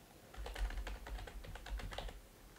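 Rapid, close keystrokes on a computer keyboard as a command is typed into the NGSpice circuit simulator, a quick irregular run of clicks lasting a couple of seconds with no voices.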